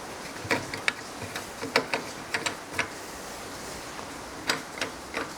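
A hand ratchet loosens a bolt while a walk-behind electric greens harvester is being assembled, giving a string of sharp, close, irregular clicks with short pauses between bursts and no talk.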